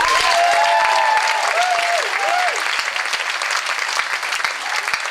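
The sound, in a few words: audience applause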